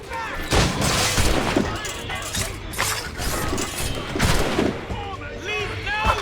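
Musket and gunfire during a battle in Assassin's Creed Rogue, sharp bursts and cracks scattered across several seconds amid shouting and clanking mechanical noise.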